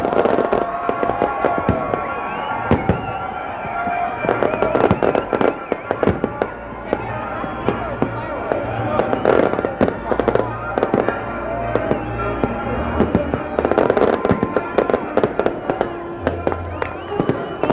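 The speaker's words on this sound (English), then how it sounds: "Watching the fireworks here." Continuous New Year's Eve fireworks at the Hacienda Las Vegas implosion, with rapid crackling bursts and booming pops, dense and loud throughout, with a crowd murmuring faintly beneath.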